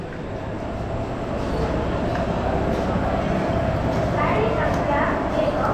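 The Puri–Howrah Superfast Express stands at a busy station platform, its low steady rumble and hum filling the scene, with distant clatter and voices of the crowd around it.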